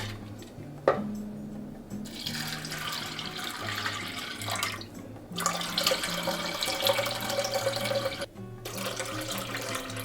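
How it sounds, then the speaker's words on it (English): Water runs steadily into a cooking pot for a fenugreek drink, a continuous close splashing pour with brief pauses and faint kitchen clatter, and nobody speaks. "we're going to add 2 3/4 of a cup more of water to the pot"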